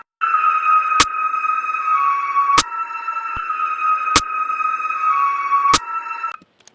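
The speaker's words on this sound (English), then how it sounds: "We wanted it to hit harder, so I added some distortion on it." Four evenly spaced, sharp, crunchy snare hits punch over a steady sustained electronic tone, about a second and a half apart.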